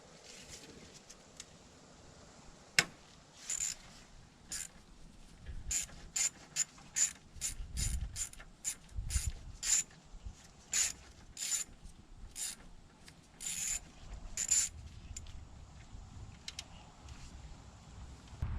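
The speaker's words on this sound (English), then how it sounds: "let's go ahead and remove this nut here. And this is a 12 millimeter." A hand ratchet loosening a 12 mm nut on a Nissan Rogue alternator, with quick series of close clicking bursts, pauses between strokes, quiet overall with no speech.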